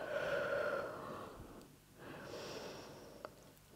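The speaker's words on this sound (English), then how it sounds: "Just a couple deep breaths here." Deep breaths during a yoga stretch: two slow, close breaths, a long airy exhale followed by a softer inhale and exhale, quiet and alone.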